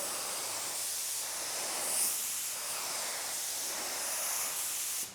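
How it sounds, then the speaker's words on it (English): A paint spray gun sprays in a steady continuous hiss for several seconds, close and even, cutting off at the end. "So now we're going to spray."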